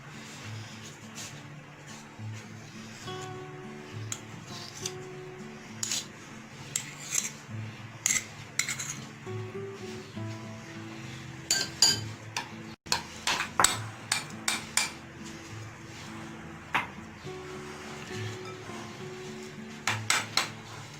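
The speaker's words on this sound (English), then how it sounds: "Now we mix it well." Pizza dough ingredients get mixed in a bowl by hand, with a utensil clinking and scraping against the bowl in irregular clusters of sharp taps, close up and alone without talk.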